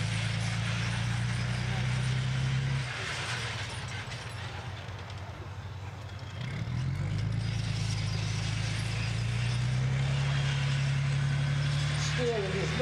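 A British main battle tank drives and turns in an arena show, its steady low engine drone and track noise rising and dipping as it manoeuvres, while a commentator talks over it throughout.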